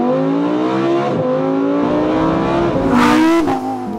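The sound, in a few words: Lamborghini V10 engine revving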